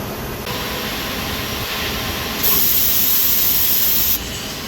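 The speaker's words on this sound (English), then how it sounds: "This is the turret 1 indexing." Turret on a 2011 Mazak Dual Turn 20 lathe indexes, a steady machine hum broken by a sharp, loud hissing burst lasting under two seconds before settling back to the drone.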